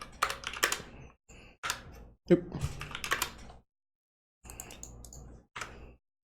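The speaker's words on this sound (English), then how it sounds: "I'm just not typing well at all right now, am I?" Typing on a computer keyboard comes in quick bursts of clicky keystrokes with pauses between them, close to the microphone, while someone briefly speaks.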